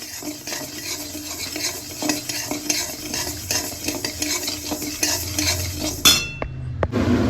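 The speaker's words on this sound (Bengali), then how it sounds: "এখানে আমি দুধ ডালটা প্রথমে ভেজে নেব" Lentils frying in a pan and stirred continuously, a rhythmic scraping of a utensil over a steady sizzle, close and fairly loud, ending with a clink and a brief pause.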